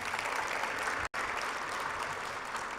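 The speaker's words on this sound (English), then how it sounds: "a big applause for the team and Flory" A large audience at the US-Africa Summit closing ceremony in Marrakech applauds the team, a dense continuous roar of clapping with a brief cut partway through.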